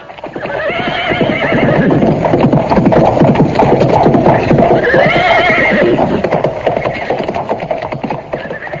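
Horses drawing a chariot neigh loudly and whinny twice over a thick, continuous clatter of hooves and rolling wheels, close and busy throughout.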